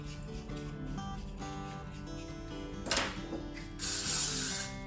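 Hairspray is sprayed onto backcombed hair during a 1960s bouncy curl set. There is a short hissing burst, then a longer steady spray a second later, both heard over continuous background music.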